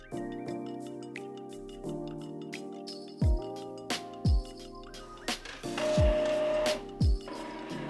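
A home inkjet printer prints a design for a Cricut cutting project, with whirring carriage passes and mechanical hums broken by several louder clunks and thumps as paper feeds, close by and with no talking.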